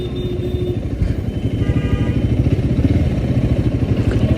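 Royal Enfield Guerrilla 450 motorcycle engine running while riding, a steady low rumble with rapid regular pulsing that grows slightly louder and more even toward the end, close and continuous with no voices.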